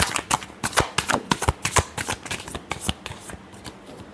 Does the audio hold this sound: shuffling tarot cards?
yes